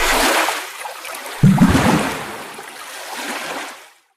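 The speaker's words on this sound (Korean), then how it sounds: "끊어진 대나무 관에서 계곡물이 폭포수처럼 쏟아져 내렸습니다" Valley water gushes out of a broken bamboo pipe like a waterfall, a loud rushing wash with a heavy low surge partway through, then it fades out.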